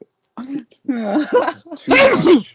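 A single sharp sneeze bursts out at close range near the end, right after a stretch of casual indoor talk from people recording at home.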